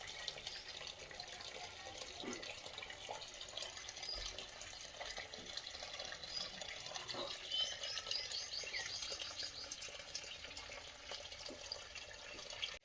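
Water from a hose pipe splashes onto the base of flowering plants in a garden, a faint, steady trickling spray that continues throughout with no talking.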